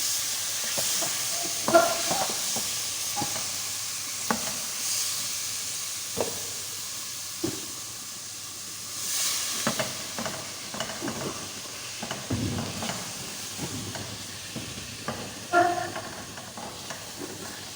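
Turnip and meat curry (shaljam gosht) sizzles softly in a pot as it is stirred, with scraping strokes and a few green chillies dropped in, the low frying hiss steady beneath intermittent clatter and no talk.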